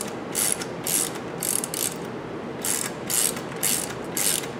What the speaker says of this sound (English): we are going to bring in our ratchet, reversing the orientation of the ratchet so that we're now tightening